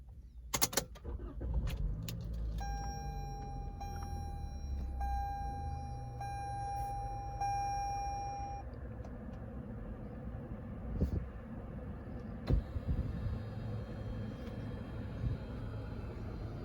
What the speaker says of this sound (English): the car did start up very smooth and very quietly